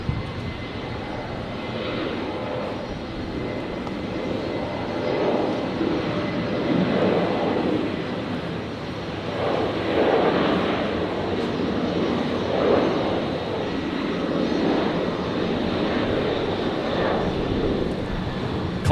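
A Virgin Australia Boeing 737 thunders down the runway on its takeoff roll, a broad, steady jet roar with swelling pulses that stays loud and fairly near for the whole stretch.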